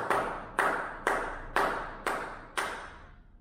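Six evenly spaced, crisp hand claps close to the microphone mark the final two measures of a rhythm exercise in an aptitude-exam practice lesson, each ringing briefly in a small room.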